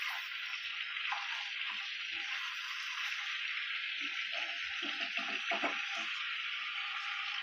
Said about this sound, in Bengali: আমি এখন এটাকে উল্টে আর 1 পিঠ ভাজতে দিয়ে দিচ্ছি।